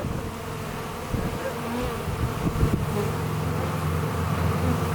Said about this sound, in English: once we start vacuuming the bees up and clearing up most of the bees